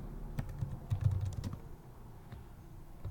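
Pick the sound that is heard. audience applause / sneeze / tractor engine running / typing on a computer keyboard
typing on a computer keyboard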